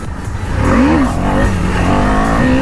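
A KTM Duke 250 motorcycle revs hard during a wheelie, its engine note climbing and dipping loudly and close throughout.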